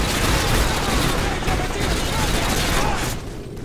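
Gunfire in Modern Warfare 3 as a shot is taken at a vehicle tire, amid a loud, continuous barrage of shots and booms that runs for several seconds before easing off near the end.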